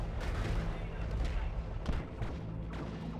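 Eldar Wraithlord walker's shoulder-mounted shuriken cannon firing in the Dawn of War 2: Retribution strategy game, a dense, continuous barrage of rapid shots and booms amid a busy battle soundscape with heavy low rumble.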